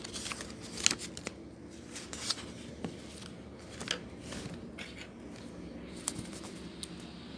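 Textbook pages being turned and handled in a classroom lesson, with soft papery rustling and a few sharper flicks and crinkles scattered over several seconds, close by with no talking.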